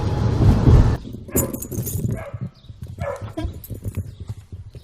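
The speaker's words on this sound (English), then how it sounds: "Gotta let my dogs out because they're barking like crazy" Dogs bark at home, loud and close at first, then scattered yelps and clattering movement follow in irregular bursts.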